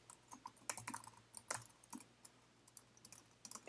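Keys clatter on a computer keyboard while email, password and store name are entered into an online store signup, quiet taps arriving in uneven bursts with short pauses between them.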